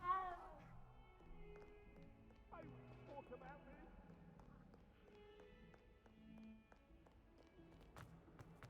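A cat in the video game Hogwarts Legacy gives a few soft meows amid quiet game ambience, faint footstep-like clops and light background music, fairly low in level.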